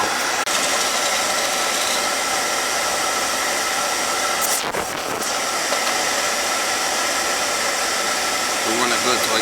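An oil burner that keeps tripping its reset runs with air being bled from the fuel line, giving a loud, steady roaring hiss. A brief sputter breaks in midway, then the even roar resumes.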